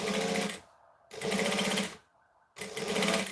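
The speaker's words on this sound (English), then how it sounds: "So I'm stitching these together because they're easier to work with." A sewing machine stitches fabric pieces together in three close, loud bursts of rapid whirring, separated by short pauses where the motor stops.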